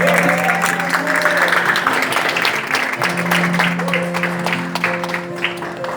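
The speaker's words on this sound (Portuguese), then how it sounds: "Vamos aplaudir para a palavra do Senhor." A church congregation applauds after a sermon reading, a steady wash of clapping with sustained tones from an instrument playing underneath.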